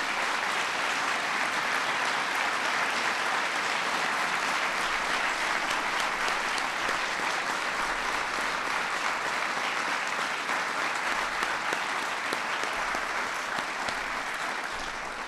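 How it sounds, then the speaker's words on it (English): Steady, dense applause from a large crowd at a White House science and innovation medal ceremony fills the whole stretch, evenly loud and sustained throughout. "let's please give one more big round of applause"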